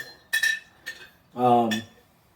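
Metal utensil clinking against a glass olive jar while Kalamata olives are fished out for a basic salad: a few sharp clinks in quick succession, close by, followed by a brief burst of voice.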